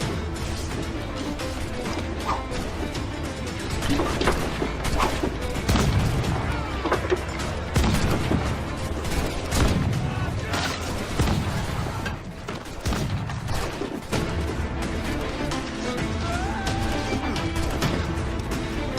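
Ship cannons fire in a naval battle in the Assassin's Creed video game: loud, dense booms and crashes roll over a continuous battle din, with shouting voices mixed in throughout.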